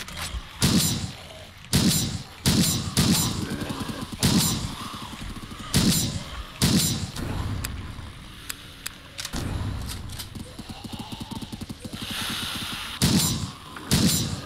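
Rapid bursts of machine-gun fire in a video game, loud and close, with short volleys repeating at irregular intervals over steady background noise.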